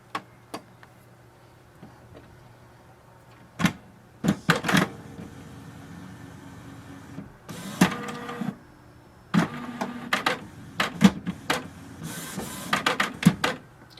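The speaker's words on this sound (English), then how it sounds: "Now switch on your printer." A Canon printer powering on and starting up, with clicks and ticks spread over several seconds, then bursts of mechanical whirring and clattering as its internal parts cycle, all close by and without talk.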